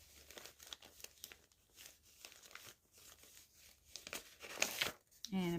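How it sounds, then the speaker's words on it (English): A piece of paper pharmacy bag is crinkled and handled close by in short rustling bursts while a person talks over it. "Bit of pharmacy bag."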